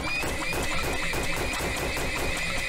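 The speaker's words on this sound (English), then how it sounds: "Is that enough horses, dang it?" Horses in the oil-drilling video game Turmoil, a steady patter of hoof clip-clops with scattered whinnies under a constant high electronic tone, busy and continuous throughout.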